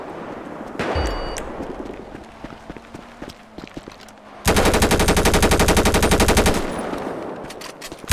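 Gunfire in a GTA roleplay shootout: a few scattered sharp shots, then a sustained rapid burst of automatic fire for about two seconds, loud and close, with a final shot at the end.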